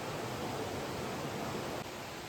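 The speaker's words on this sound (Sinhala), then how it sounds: "ඔන්න වතුර පාර." Water rushing steadily along a small concrete channel diverted from the Miyunu Ella waterfall at Gawaragiriya, Sri Lanka: a loud, continuous broadband roar held close and unchanging throughout, with no voices.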